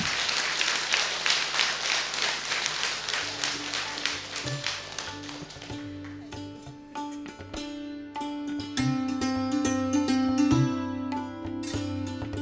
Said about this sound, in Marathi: आता टाळ्या सावनीसाठी, कारण खरंच सुंदर सूत्रसंचालन केलेलं आहे.